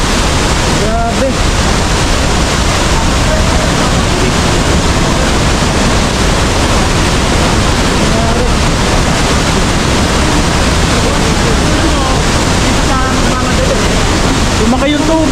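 A waterfall in Malinao, Albay, swollen with heavy water, roars loudly and without a break, a constant broadband rush close by with faint voices beneath it.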